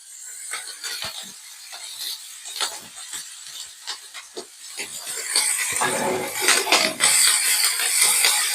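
Onions and peppers hit a hot pan for an omelette, starting a broadband hiss that swells into a louder, steady sizzle, with scattered clatters and scraping close by.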